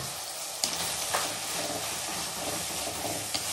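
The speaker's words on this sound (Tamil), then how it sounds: "இந்த மிளகாத்தூள் வாசம் வந்து பச்சை வாசம் போகிற வரைக்கும் நல்லா வதக்கி எடுக்கணும்." Chili powder sautéing with softened tomato in a pan for a dried fish curry, a steady close sizzle and fry with occasional stirring scrapes, no talking.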